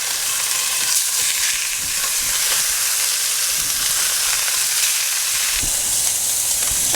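Pork bones sear in a hot pan over medium-high heat, a steady close sizzle and hiss with occasional faint scrapes and taps, continuous throughout with no talking.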